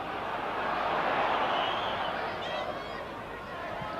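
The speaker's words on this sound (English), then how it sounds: "Crowd now trying to get behind him a bit." A football stadium crowd at a European Cup Winners' Cup match against Legia Warsaw, a broad, steady roar of cheering and chanting rising and swelling, heard from a distance beneath a commentator speaking.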